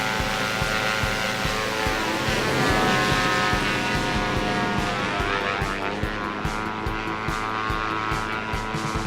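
A Diamond DA62 twin-engine aircraft in X-Plane 11, heard from outside the plane: a loud, steady propeller drone with a rhythmic pulsing beat, continuous and without speech.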